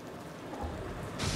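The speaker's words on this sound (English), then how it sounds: "There is a storm. I don't like it." Steady rain hisses through a brief thunderstorm in the horror game Among the Sleep, with a low thunder rumble swelling near the end.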